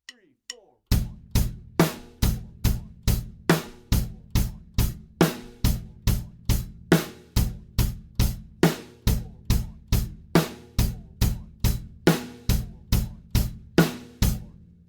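A drum kit plays a brisk quarter-note groove of bass drum, snare and hi-hat, with close, loud strokes arriving about twice a second in a steady, even pulse for the whole stretch. No voices are heard.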